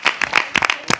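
A handful of hands clapping close by, about eight sharp, uneven claps in quick succession with brief gaps, no talking over them.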